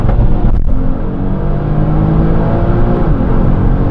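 An Audi TT R36 Turbo revs hard under acceleration, its loud, close engine note briefly dropping at a gear change before climbing again in a steady rising roar.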